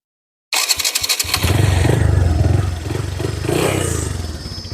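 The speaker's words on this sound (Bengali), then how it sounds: "এবার আমরা বাইকটি স্টার্ট করে সাউন্ড শোনাবো" A Discover motorcycle engine cranks with a few sharp starter bursts, then catches and settles into a loud, steady running rumble close by.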